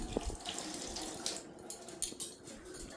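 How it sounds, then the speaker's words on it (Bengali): Hands being washed under a running kitchen tap, a close, steady gush of water with splashing shifts as the hands move through the stream. "হাত ধুয়ে নাও।"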